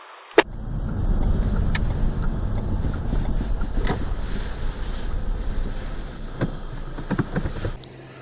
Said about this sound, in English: So I've just got to wait for this tractor to pass